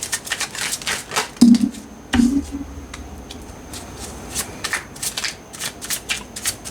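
Tarot cards are shuffled by hand at close range in a dense rapid riffle of papery slaps and flicks, with a couple of louder knocks early on.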